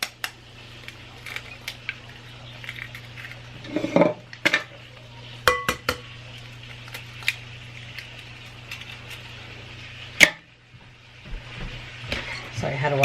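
Milk and eggs are mixed in a bowl for French toast, with scattered clinks and knocks of a utensil against the bowl over a steady low hum, a voice speaking at times.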